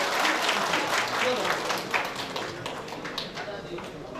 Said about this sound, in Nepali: मन्त्रीज्यूलाई हार्दिक धन्यवादको तालीसहित उहाँलाई विदाई गरिदिनु सबैलाई अनुरोध गर्दछु